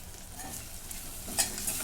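Onion-garlic masala with coriander-cumin powder and garam masala being sautéed in a pan with tomato, giving a soft continuous sizzle with faint stirring scrapes and a small clink near the end.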